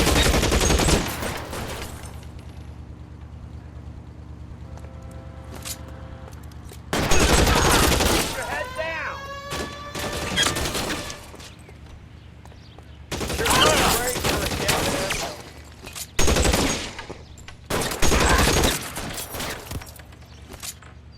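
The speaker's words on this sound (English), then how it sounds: "Lay down some covering fire!" Loud bursts of automatic gunfire in a video game shootout, repeated volleys separated by quieter stretches, with shouted voices and faint echoing tones between the fusillades.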